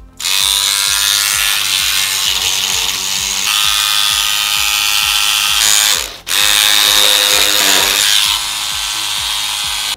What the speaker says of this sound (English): this power scrubber is my new favorite cleaning tool